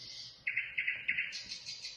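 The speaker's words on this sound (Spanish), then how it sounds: "Todas las mañanas el pájaro vuelve a ver a Ainara y le dedica un hermoso canto junto a la ventana" A bird sings beside a window in the morning, giving a quick run of bright, high chirps in several short bursts, clear and close, with no talking.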